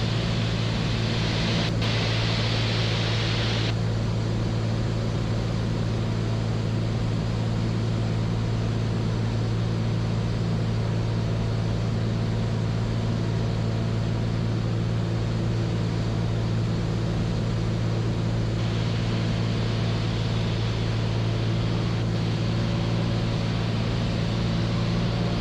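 A small aircraft's engine drones steadily as it approaches a downhill airstrip at Matsaile for landing, a loud, unbroken cockpit roar with a deep hum and no talking.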